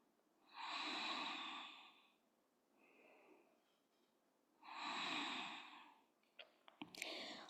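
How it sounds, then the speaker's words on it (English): Slow, deep yoga breathing during a vinyasa flow, close and soft: two long airy exhales a few seconds apart with a faint breath between them, then a few small rustles. "A few more breaths."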